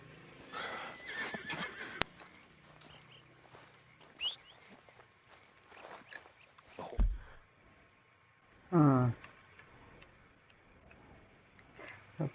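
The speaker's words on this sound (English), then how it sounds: "Damn that horse." A horse in Red Dead Redemption 2 gives a loud whinny near the end, with a shorter neigh earlier, among quiet in-game ambience, hoof clops and a few scattered sounds.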